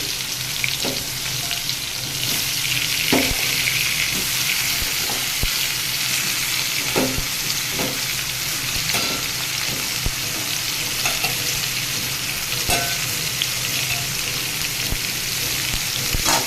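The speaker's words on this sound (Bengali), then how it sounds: "এবার লাউটাকে তেলের সাথে বেশ ভালোভাবে নেড়ে চেড়ে মিশিয়ে নেব।" Chopped bottle gourd sizzles steadily in hot oil in a pan while being stirred, with a continuous loud frying hiss and occasional soft knocks of the spoon, close up and without speech.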